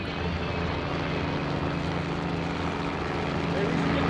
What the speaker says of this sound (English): Hold on, helicopter.